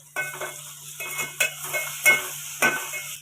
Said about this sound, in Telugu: కొద్దిగా కొత్తిమీర, కొద్దిగా కరివేపాకు వేసుకొని బాగా కలుపుకోవాలి